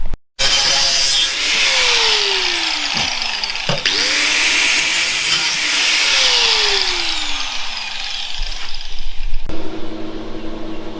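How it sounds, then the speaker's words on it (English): An angle grinder cuts metal in a backyard build, a loud, close, harsh whine that repeatedly winds down and revs back up between cuts before cutting off near the end, with no talking. "So we can cut it with the grinder?"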